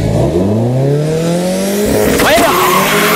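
A Subaru Legacy 2.0L EJ20X making 290hp races a Turbo Starlet 1.3L, both with manual gearboxes; engines rev up loudly in a rising whine, then a gear change and tire noise cut in.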